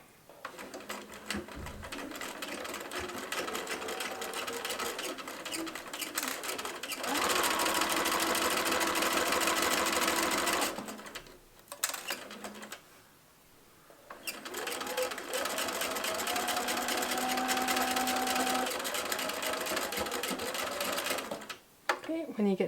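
Sewing machine stitching across the bottom of a tote bag with a 5mm seam allowance, running in long steady bursts with brief pauses between, close and clear, with talk faintly underneath.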